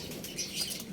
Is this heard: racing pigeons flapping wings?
yes